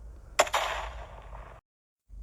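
Gunfire sound effect in a Korean War radio drama: a sharp crack followed by a rushing, noisy burst that rolls on for about a second before cutting off abruptly into silence.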